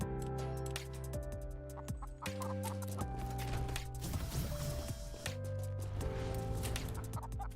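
A rubber chicken gun in the video game Gunforged gives repeated clucking squawks amid dense, steady game music and effects, the clucks recurring in short bursts throughout.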